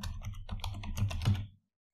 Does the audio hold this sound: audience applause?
no